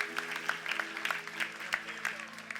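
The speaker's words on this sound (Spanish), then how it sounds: "Puedes aplaudir fuerte" A church congregation clapping during a Spanish-language service, scattered claps at moderate distance over a faint sustained musical tone, fairly quiet and even.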